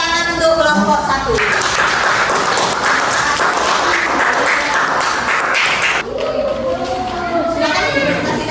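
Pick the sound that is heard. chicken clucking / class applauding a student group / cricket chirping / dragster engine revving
class applauding a student group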